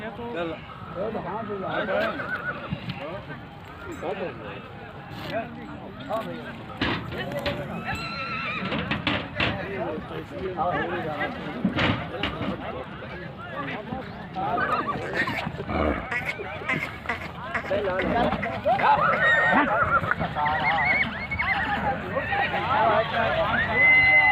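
A Sindhi breed horse at a village fair neighs repeatedly while being walked, with hoof clip-clop audible, under steady nearby talk and a busy crowd throughout.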